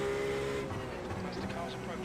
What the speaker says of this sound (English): As the car's approaching.